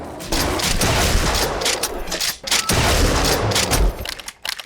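A shotgun that handles like a Winchester rifle fires in the GZDoom Doom mod, with loud, dense bursts of blasts and booms layered over continuous game action and no pauses.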